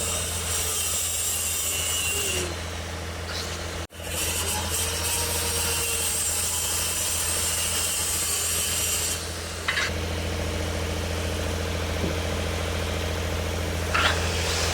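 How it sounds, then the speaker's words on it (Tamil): A saw cuts plywood to size for the top of a vehicle cabin during alteration work, giving a steady rasping drone that runs continuously alongside a constant engine-like hum. "ப்ளைவுட் உள்ள, அதாவது கேபினோட டாப் சைடில் வர்றதுக்காக கட் பண்ணுறாங்க மார்க் பண்ணி"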